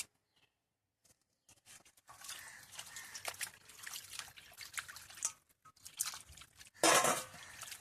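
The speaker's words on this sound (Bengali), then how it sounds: "এবার কলের জলে ভালো করে পরিষ্কার করে ধুয়ে নেব" Chicken pieces are washed under tap water: after a quiet start, water trickles and splashes in irregular bursts, with a brief louder gush near the end.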